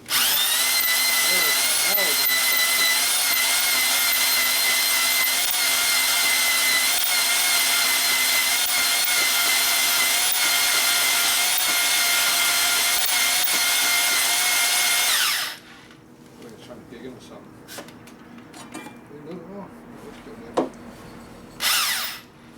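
An electric drill spins a cylinder hone inside the bore of a 5.7L LS Chevy engine block outdoors, a loud, steady whine running unbroken for about fifteen seconds before cutting off into quiet handling noises.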